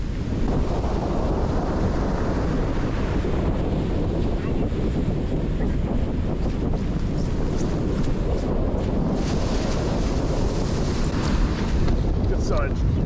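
Ocean waves break and wash onto a beach in late winter during surf fishing, a continuous loud roar of surf and white water with heavy wind buffeting the microphone throughout.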